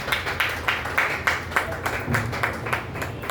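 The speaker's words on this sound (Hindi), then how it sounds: "हम लोग डॉक्टर डंडा लखनवी को तालियों से अभिनंदित करेंगे।" Audience applause at a Hindi poetry gathering and award ceremony, a steady patter of many hands clapping with soft crowd noise, moderately loud and sustained throughout.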